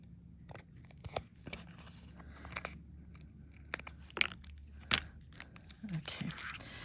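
Scissors trim an artist trading card decorated with copper tape and embossed metal, cutting from the back: scattered crisp snips, crinkles and small rattles at close range against a quiet background.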